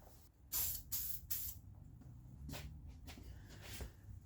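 Spray paint hissing onto a Jeep YJ during a restoration repaint, in several short bursts followed by longer, softer passes; close, with steady background noise and no talking.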